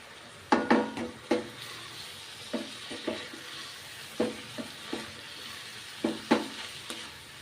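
Diced potatoes and poha frying in hot oil with a steady sizzle, broken by repeated stirring scrapes and clacks of a utensil against the pan at irregular intervals, close and alone.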